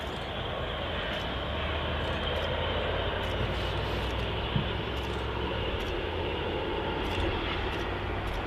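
A jet airliner touches down on runway 05L at Manchester Airport in gusty wind, heard as a loud, steady broadband roar of engines and rushing air that holds throughout.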